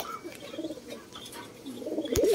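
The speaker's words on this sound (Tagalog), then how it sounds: "may kalapate tayo dito" A Black Widow pigeon in a dove loft gives soft, low cooing in short phrases, close and fairly quiet, with no talking.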